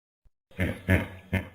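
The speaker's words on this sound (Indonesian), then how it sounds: "Kuda nil." Three short, deep grunts in quick succession, close by and fairly loud, after a moment of near silence.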